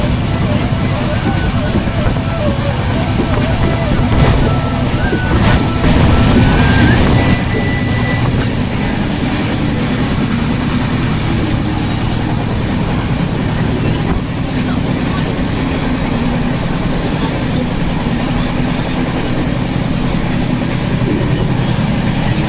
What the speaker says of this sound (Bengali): অনেকটা লেট করে আমাদের ট্রেন এখন 9:35-এ ঢুকলো আম্বালা ক্যান্টে